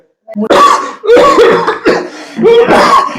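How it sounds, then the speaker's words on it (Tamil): A man's harsh, wet coughs burst out in four loud, close fits, each a rough rasping hack with a short pause before the next. "எதுக்கு இப்படி இருமுற"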